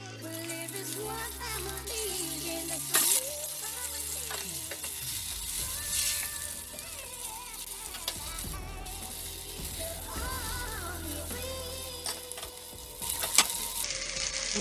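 Hake tails frying in hot oil, a steady close sizzle and crackle running throughout with occasional clinks and scrapes of a utensil against the pan.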